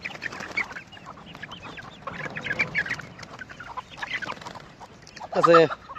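Several chickens cluck nearby in uneven bursts at a nomadic shepherds' camp, with one louder squawk near the end; faint background noise throughout.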